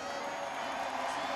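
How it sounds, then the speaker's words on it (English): A large crowd at the Mexico Grand Prix cheers Max Verstappen's win, a continuous roar heard from a distance for a brief moment. "What do you think of this crowd? It's incredible."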